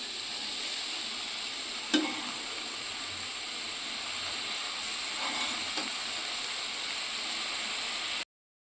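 Mixed vegetables and paneer cook in a pan under a constant hissing sizzle, with a couple of short spoon scrapes as they are stirred, before the sound cuts off abruptly.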